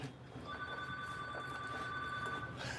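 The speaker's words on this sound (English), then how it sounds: "McFly, answer the phone, McFly." A telephone rings with a steady electronic tone lasting a couple of seconds over low background noise in a trailer workshop.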